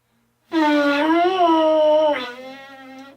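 A loud, buzzy brass tone played without a mouthpiece holds and bends slightly in pitch, then drops to a softer, thinner buzz before stopping.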